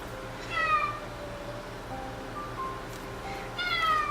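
A cat meows twice in a kitchen, a short rising call near the start and another near the end, with a faint brief mew between, over quiet room noise.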